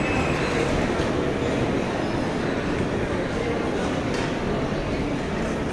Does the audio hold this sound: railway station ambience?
yes